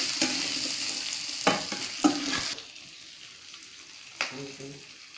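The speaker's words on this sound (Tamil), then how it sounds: "புளி நல்லா வதங்கட்டும்" Tamarind sautés in a pan for a pirandai chutney, a close hiss of frying broken by a few spatula scrapes and knocks, the sizzle dropping to a quieter simmer partway through.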